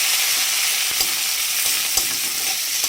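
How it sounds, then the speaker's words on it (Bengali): Chopped onion hits hot oil and crackles in a loud, dense sizzle that holds steady the whole time. A few faint utensil taps are heard, and nobody talks. "দেখুন পেঁয়াজ কুচি তেল মধ্যে দিয়ে দিচ্ছি"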